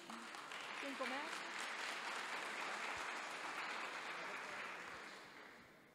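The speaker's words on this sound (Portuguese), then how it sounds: "Uma salva de palmas." An audience applauds at a MateWorld 2022 talk on wine and yerba mate, steady moderately loud clapping that swells and then fades toward the end, with a brief voice near the start.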